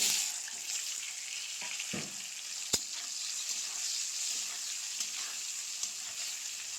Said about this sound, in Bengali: লাল লাল করে আলুগুলো প্রথমে ভাজি করে নেব।